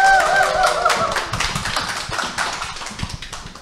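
Applause at a Korean business presentation session, a crisp, rapid patter of clapping hands close by, starting strong under a brief musical tone and slowly thinning toward the end.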